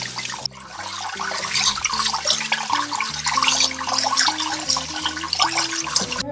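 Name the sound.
rinsing goat meat under running water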